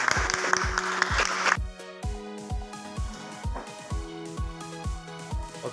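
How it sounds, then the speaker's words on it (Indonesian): Audience applause at a university teaching session rings out as a dense burst of clapping for about a second and a half, then gives way to music with a steady drum beat. "Oke, berikan aplaus."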